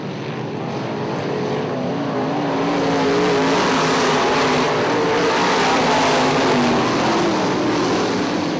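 IMCA modified race cars roar around Ionia Raceway Park in a continuous, loud engine drone that swells slightly midway as the pack passes, with no talk over it.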